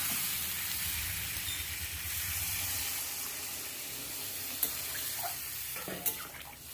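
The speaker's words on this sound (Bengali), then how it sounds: "এবার জলটা দিয়ে দেবো" Water poured into a cooking pan sizzles and hisses, with a low bubbling rush at first that settles into softer hissing, broken by a few small clinks near the end.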